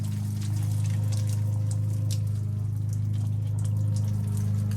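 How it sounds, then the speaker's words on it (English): Water runs through a leaking drain pipe inside a wall, a steady rushing flow over a constant low hum that lasts the whole time. "Somebody is running some water or something."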